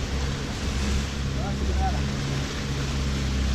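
Steady low rumble of a boat engine with wind and water noise as the hull bounces over waves, loud and continuous.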